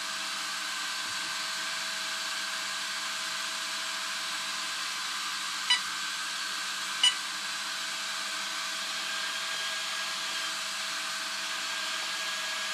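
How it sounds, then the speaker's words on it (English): Steady, loud whooshing drone of twin cooling fans running continuously, with a couple of faint brief ticks partway through. "I think these fans are blowing the wrong way."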